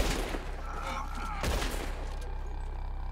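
Gunfire in Red Dead Redemption 2 as players shoot the ropes: a burst of rapid shots at the start, another volley around the middle, and game noise and voices in between.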